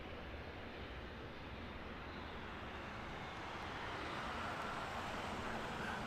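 A Wizz Air jet on approach to land at London Luton Airport, a distant steady roar of engine noise that swells slightly as it nears, with no talking.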